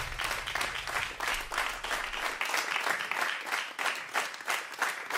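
Audience applauding a jazz quintet at a live concert, dense steady clapping throughout, fairly loud and close, with a low sustained tone fading out in the first half.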